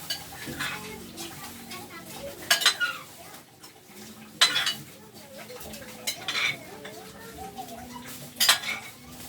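Shrimp stirred into a pot of arroz valenciana with chicken, a spoon clinking and scraping against the pot in irregular bursts over a faint simmer, with a voice talking in between.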